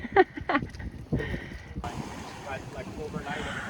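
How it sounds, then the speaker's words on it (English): A dinghy's outboard motor runs steadily on open water after a few clattering knocks, with a broadband drone and wind noise filling most of the clip. "Everything is starting up good with the dinghy."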